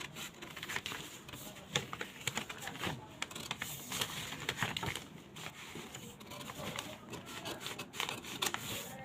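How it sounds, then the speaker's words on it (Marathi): Scissors snip through blouse fabric in a rapid run of short, crisp cuts, close and fairly quiet, with rustling cloth between the strokes. "सुरुवातीला पाठीमागचा मुंडा तो कट करून घ्यायचा आहे आपल्याला"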